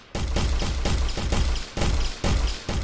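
Loud, evenly spaced gunshots ring out in an Unreal Engine 4 test game, roughly five rounds a second in a steady rhythm for nearly three seconds, with no voices.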